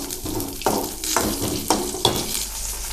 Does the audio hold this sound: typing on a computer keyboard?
no